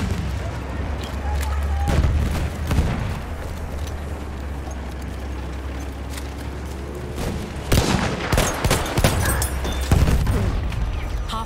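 Grenade blasts and gunfire in a Battlefield 1 battle, with loud explosive bursts around two, eight and ten seconds over a steady rumbling backdrop of combat, and voices shouting in the mix.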